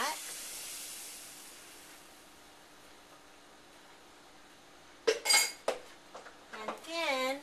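Milk sauce for scalloped potatoes being mixed, with a long quiet hiss first and then a close burst of sharp metal utensil clinks and scrapes against the pot near the end.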